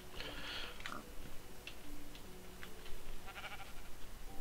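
Sheep bleat in the video game Minecraft, several short, faint calls spread across a steady hiss of background noise, with light ticking game sounds in between.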